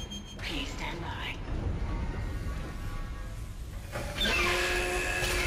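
Tram in the Dead Space video game rumbling and moving, with a low mechanical drone, a whispering hiss, and a brighter rising whine toward the end; a voice speaks over it.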